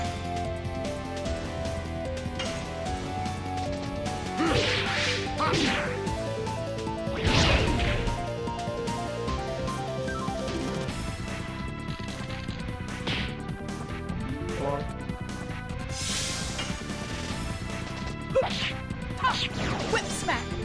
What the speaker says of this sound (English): Whip smack!